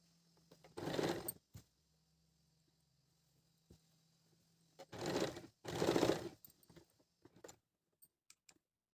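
A sewing machine runs in three short bursts while stitching pleats on a woolen salwar, with quiet pauses between the runs and a faint hum during the gaps.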